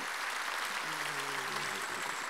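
Brief applause from a church congregation honoring a project design team, a dense clatter of clapping with a faint voice tone underneath, steady and moderately loud for a couple of seconds.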